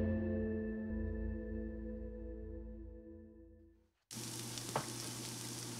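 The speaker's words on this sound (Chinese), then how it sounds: "等我把这个牛排煎完" Steak sizzles loudly in a hot pan in a home kitchen, a sudden bright, continuous frying hiss that starts after several seconds of sustained background music, with no one talking.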